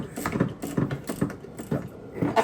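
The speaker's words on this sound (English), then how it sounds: "Highly recommend ratcheting wrenches for this." Rapid, rhythmic clicking of a ratcheting wrench working a bolt loose on the wiper assembly of a 2017 Ford F-150, a steady run of close mechanical ratchet strokes with no talk.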